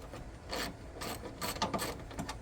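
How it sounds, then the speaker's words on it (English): A ratchet driving a 10mm socket to loosen the battery hold-down bar bolt on a car or truck, giving bursts of close, rasping clicks with short pauses between strokes. "So I'm going to do that with utilizing a 10mm socket and a ratchet."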